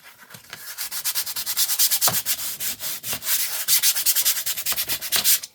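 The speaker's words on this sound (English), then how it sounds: "This is the sandpaper that they sent you with this burn gel." Sandpaper supplied with a burn gel rubbed back and forth in quick, steady rasping strokes, close and loud, with a rhythmic scratching pulse throughout and no talking.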